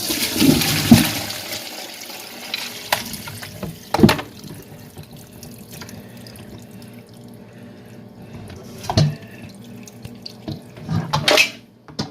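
Rinse water poured out of a cooking pot into a kitchen sink, several separate bursts of splashing and draining with light clinks of the pot between quieter gaps.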